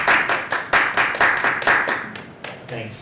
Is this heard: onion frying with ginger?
no